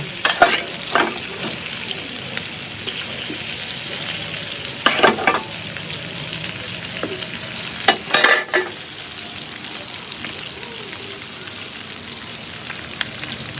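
Tengra fish lightly frying in a pan on a home veranda give a steady close sizzle, broken by clusters of spoon scrapes and clatters, with crackle settling toward the end.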